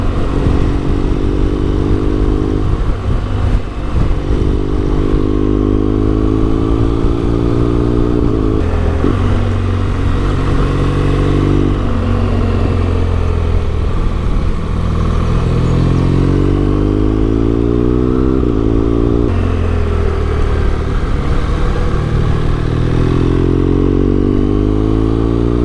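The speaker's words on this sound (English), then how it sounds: "the bike handles great" A motorcycle loaded with luggage rides along with a loud, steady engine drone whose pitch rises and falls through gear changes, close up and continuous with no talk.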